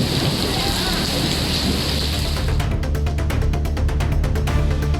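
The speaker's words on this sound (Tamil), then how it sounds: "காஞ்சிபுரம் மாவட்டம் வாலாஜாபாத் மற்றும் சுற்றுவட்டார பகுதிகளில் 1 மணி நேரத்திற்கும் மேலாக கனமழை பெய்தது" Heavy rain falling over Walajabad in Kanchipuram district, a loud, dense, unbroken hiss of downpour with a low rumble underneath, turning into rapid rhythmic pattering halfway through.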